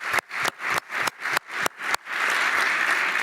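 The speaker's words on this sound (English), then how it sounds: "I would like to also ask for an applause for Darren as well" Bursts of applause for Darren Dean at a virtual extraordinary assembly, several short rhythmic chunks that merge into one steady wash of clapping and rattling near the end.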